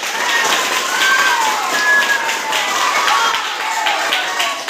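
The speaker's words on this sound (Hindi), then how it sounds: "ताली बजाओ सब लोग।" A group of schoolchildren in a classroom clap together in a steady burst of applause that lasts several seconds, with a few voices mixed in.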